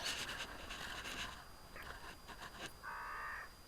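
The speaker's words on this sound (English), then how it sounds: "The noisy birds telling me that it's time to wake up." Harsh cawing of crows rings out repeatedly against steady outdoor background noise, fairly loud and close, with a longer drawn-out call near the end.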